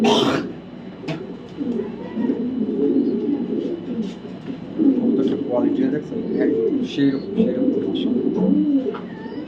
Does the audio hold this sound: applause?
no